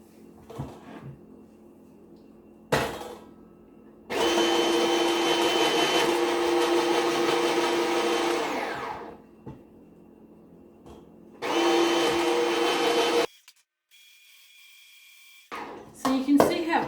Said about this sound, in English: this will just go through my slicer